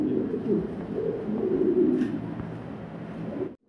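A pair of large black pigeons in a cage coo in a low, continuous rolling murmur, close and steady, before the sound cuts off abruptly.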